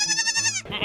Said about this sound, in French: Oh, une chèvre.